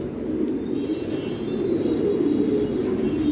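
A loft of American Saint pigeons coos in a dense, continuous, overlapping murmur, steady and fairly loud throughout. No voices are heard.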